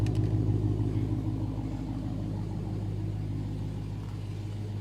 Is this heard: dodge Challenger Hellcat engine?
yes